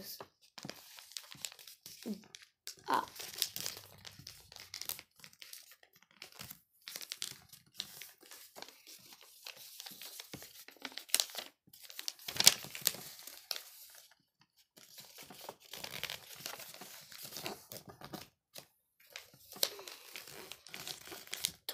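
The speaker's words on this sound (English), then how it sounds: "You should fold the wing up, and then do the same with the other side." Paper is folded into a paper airplane with quiet, intermittent crinkles and creases, scattered sharper crunches, and soft talk between them.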